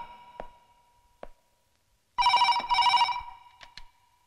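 A telephone bell rings in two loud bursts, clear and close, after a couple of faint clicks, then a few brief taps follow.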